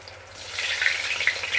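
Manchurian balls frying in hot oil in a pan, a steady close sizzle with bright crackling pops building over a low hum.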